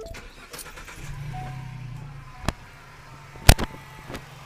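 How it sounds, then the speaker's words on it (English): A car engine is started during a test with an automotive oscilloscope: a short cranking whir, then a few sharp clicks and knocks, moderately close. "We're going to go ahead and start the vehicle up and see what we capture here."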